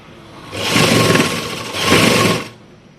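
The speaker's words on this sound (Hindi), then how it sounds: "इसके नीचे ऐसे इस लेस को रखा और सीधे पर ऐसे सिलाई लगाते चलना है" A sewing machine stitching lace onto kurti fabric runs loud and near in two steady bursts with a brief dip between them, and the motor whirs alone.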